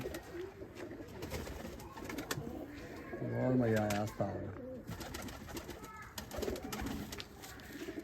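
Pigeons kept by a fancier at a village loft near Batala coo in a short rounded burst partway through, close by and under men's conversation.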